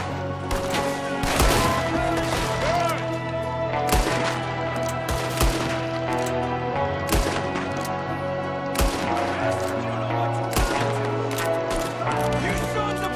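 Enemy gunfire in the video game Red Dead Redemption 2 rings out as repeated sharp shots and bursts over about thirteen seconds, loud and fairly close against a steady game background.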